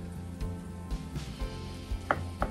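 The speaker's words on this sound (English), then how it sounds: "Go ahead and get some big slices of tomato ready for a sandwich." Big slices of tomato being cut for a sandwich: several soft, evenly spaced knife thuds against a board, with faint background kitchen sizzle and a couple of sharper taps near the end.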